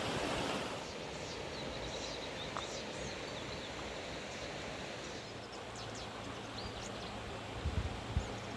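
Rio Pichitraful in Chile flowing as a steady, broadband rush of water, constant and fairly close throughout, with a slight low rumble and a few brief bumps near the end.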